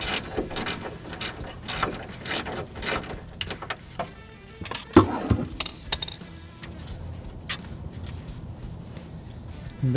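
A wrench breaking loose a starter bolt on a Honda Civic gives close, sharp mechanical ratchet clicks and metallic clinks in irregular bursts, with one louder crack partway through and quieter tool handling after.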